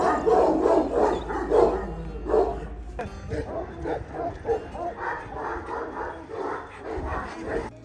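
Many Kangal dogs bark together at a Sivas kennel farm, a dense overlapping chorus of loud barks with some yips and whimpers throughout, with someone talking at times.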